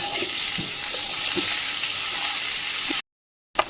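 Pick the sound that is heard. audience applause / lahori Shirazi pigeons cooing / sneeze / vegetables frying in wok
vegetables frying in wok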